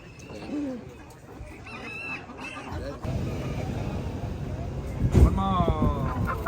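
Chickens and a rooster at an outdoor livestock and farmers market in Mulvane, Kansas cluck and crow, a loud crow rising near the end, over background chatter and market noise.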